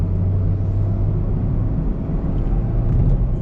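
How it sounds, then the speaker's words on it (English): A 2009 Honda City's engine hums at higher revs in a low, steady drone heard from inside the cabin, with faint road noise underneath and no talking. "Even at higher revs, the car does sound quiet"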